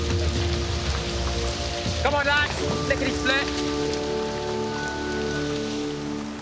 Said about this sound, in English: it's pouring of rain